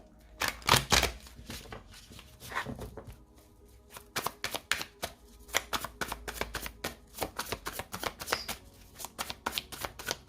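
Tarot cards are shuffled and cut close by, with bursts of riffling and crisp slaps coming in irregular clusters and pauses between them, and no talk.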